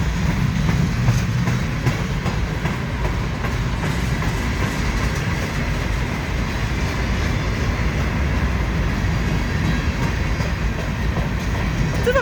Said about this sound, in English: This might be the longest train I've ever filmed